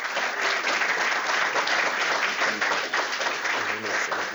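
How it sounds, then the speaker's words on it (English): An audience applauding at the end of a tech talk, dense continuous clapping from a roomful of people, loud and sustained throughout. "Round of applause, guys."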